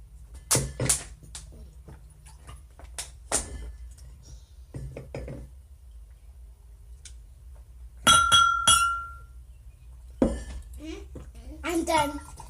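Drinking glasses clink together in a few sharp, ringing taps spread across the scene, with children and an adult chatting around them.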